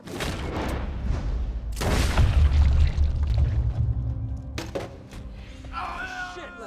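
Gunfire in Red Dead Redemption II, two heavy booming shots in quick succession followed by a long, rumbling echo, with a few faint clicks and a short spoken exchange near the end.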